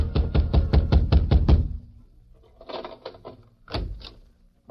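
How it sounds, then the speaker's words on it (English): Loud, heavy pounding on a cabin door: a rapid run of about eight hard knocks, then after a pause a few softer, scattered knocks and two more firm raps, with no talk. "was wakened by a pounding on his door"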